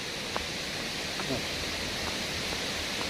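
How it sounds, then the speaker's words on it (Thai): Waterfall at Nong Bua Lamphu, Thailand, flowing strongly after good rains, a steady broadband rushing roar that fills the whole moment evenly with faint voices underneath. "ผมตอนนี้ก็อยู่น้ำตกเข้าโตนะครับนะ เมืองหนองบัวลำพูครับผม ไปดูน้ำตกกัน"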